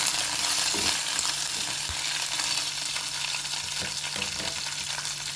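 Curry leaves fry in hot oil for mango semiya pulihora, giving a steady, dense, close sizzle that continues throughout with occasional small pops.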